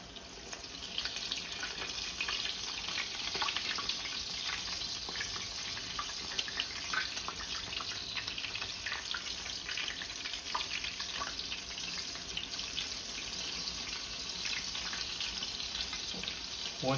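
French toast fries in a pan with a steady, soft sizzle, while faint scraping and handling noises come through now and then, all at low volume.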